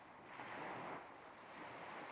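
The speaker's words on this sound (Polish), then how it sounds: "zauważasz dźwięk fal toczących się tam i z powrotem w powolnym i głębokim rytmie" A soft ocean wave rolling in and washing back, a faint swell of surf rising and easing under light wind noise, with no voices.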